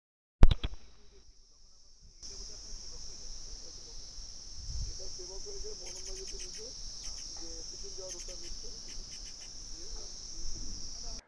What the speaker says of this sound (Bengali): তো পেলে তোমরা ঝিঝি পোকা পাখি কেমন একটা আলাদাই সাউন্ড, কিন্তু মায়াবী।